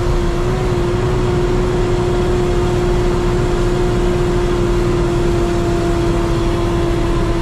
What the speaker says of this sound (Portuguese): carro tá urrando aqui